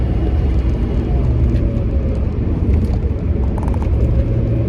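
A 1978 Jaguar XJ6 pulls away with a steady, loud low engine rumble that holds evenly throughout, heard from inside the car with no speech.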